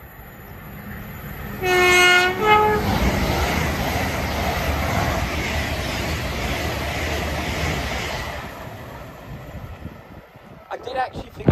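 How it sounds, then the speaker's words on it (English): An LNER express train approaches and passes at Hadley Wood, sounding a two-tone horn early, then a loud sustained rushing roar that fades as it goes by, with a voice speaking briefly near the end. "Got another LNER Zoomer approaching."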